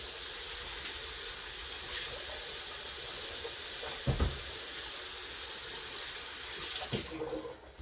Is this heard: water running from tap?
yes